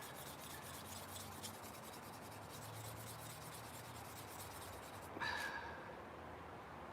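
A scandi-grind folding knife is worked against an abrasive sharpening stone in a steady, continuous gritty rubbing that runs throughout, heavy stock removal, with a brief louder scrape near the end.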